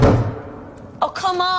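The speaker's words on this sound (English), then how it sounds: "And then a loud knock at the door." A single heavy knock lands on a door at night during a storm, a brief loud thud followed by quiet and then a voice speaking.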